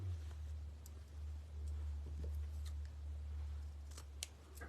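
Scissors snip through lace trim during a fabric decoupage craft, a few soft, close cuts over a steady low hum.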